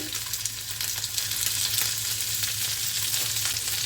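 Potatoes and spices are stirred in a pan over a high flame, producing a close, even sizzle with soft stirring scrapes, no speech.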